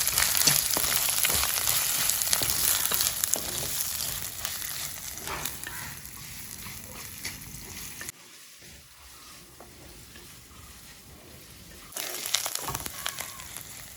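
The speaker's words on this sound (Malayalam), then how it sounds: "നമ്മുടെ ചുവന്നുള്ളി നന്നായിട്ട് വഴന്ന് വന്നിട്ടുണ്ട്" Sliced shallots sauté in hot oil in a pan as the base of a fish curry, giving a loud, steady sizzle and crackle with a few stirring scrapes. The frying drops away for a few seconds near the end, then returns.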